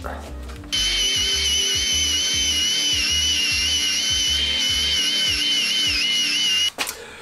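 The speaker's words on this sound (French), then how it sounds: "je viens de passer un petit coup de meuleuse, voilà, avec une brosse métallique pour adoucir le métal" An angle grinder fitted with a wire brush works on metal in a forge, giving a loud, steady high-pitched whine with a rapid pulsing rumble underneath that cuts off abruptly at the end.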